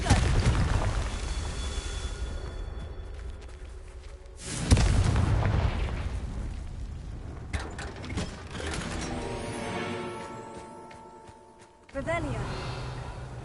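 A Confringo fire spell from a Hogwarts video game blasts with a loud booming burst around the midpoint, surrounded by dense mechanical game effects and music, with a second sharp hit near the end.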